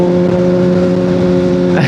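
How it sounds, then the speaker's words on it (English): A Honda CBR600RR motorcycle engine drones loud and close at a steady pitch, then revs sharply upward in the final moment. "Maybe I'll punch it here. Oh man, we wound it up there."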